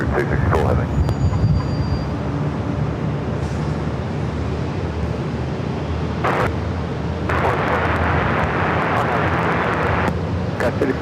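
Jet airliner taking off at San Diego airport: a steady, heavy broadband roar fills the whole stretch and swells slightly toward the end, with radio voices talking over it.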